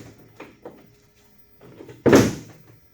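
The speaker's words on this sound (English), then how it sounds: "you can see we have a lid that readily hinges" A hinged lid on an IBC tote firewood store is swung shut, with a couple of soft knocks followed by one loud, close thump as it lands, then quiet.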